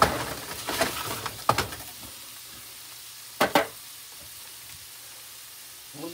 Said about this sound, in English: I'm going to let this cook down some more.